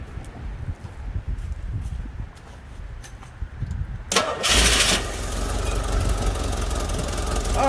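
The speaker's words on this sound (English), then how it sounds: "You want to start the engine?" A Jeep DJ5 engine cranks and fires, then settles into a loud, rough idle with an uneven misfire, close by after a quieter stretch of background noise.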